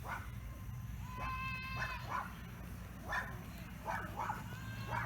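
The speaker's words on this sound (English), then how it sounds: "Unfortunately, you can hear my dogs in the background." Dogs bark and yip in the background, several short bursts spread across the clip over a steady low hum, moderately distant.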